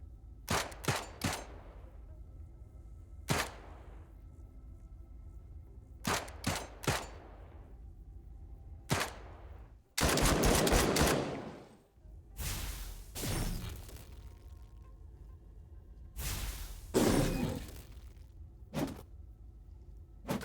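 Turn-based combat gunfire in the video game Encased: sharp, separate shots fired singly and in quick pairs, plus a few longer rattling bursts, all loud and close, spaced by quiet gaps with no talking.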